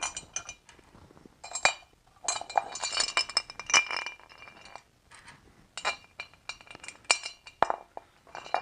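Metal bolts for a BMW E46 AC compressor bracket clinking and rattling together during engine reassembly, a busy run of close, bright jangles and taps in irregular bursts with short pauses between.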